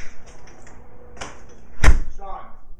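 One loud thump against a door stands out amid quiet talking and room noise.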